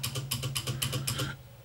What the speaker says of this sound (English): So I'm gonna hit the space bar right now.